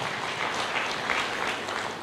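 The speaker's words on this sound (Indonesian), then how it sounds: "Berikan tepuk tangan yang meriah." Church congregation applauding during a sermon, a steady dense wash of many hands clapping at moderate loudness with no voices over it.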